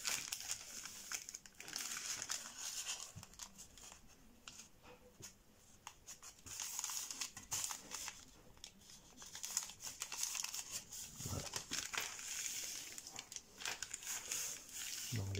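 Origami paper for a John Montroll lobster model being folded and creased by hand, giving continuous close crinkling and rustling with sharper crackles as the thick layered paper is pressed flat.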